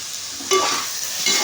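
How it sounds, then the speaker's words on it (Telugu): Masala for chicken biryani fries in a pan while being stirred briskly, a loud close sizzle swelling with two scraping strokes of the spoon. "ఈ మసాలాలు వేగాలి కదా ఇలా బాగా కలుపుకునేయాలి"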